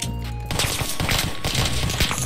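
Rapid bursts of automatic gunfire in a Roblox street shootout, loud and close, with dense repeated cracks filling the short stretch after a brief lull.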